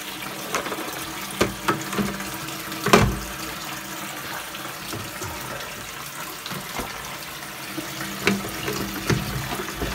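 Tap water running into an African cichlid aquarium tank being filled, a steady splashing pour with occasional louder gurgles and bursts, close and continuous.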